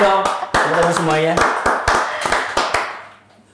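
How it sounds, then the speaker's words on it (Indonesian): An audience claps in a rhythmic series of sharp, loud hand claps at a talk show recording, with a voice speaking over them before the clapping fades near the end. "Tepuk tangan dong. Tepuk tangan semuanya."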